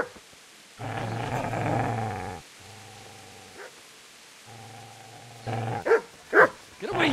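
In the Kingdom Come video game, a dog growls low and rough at a man in two long, sustained rumbles separated by a pause, followed by a few sharper snarling bursts, close and fairly loud with no speech over it.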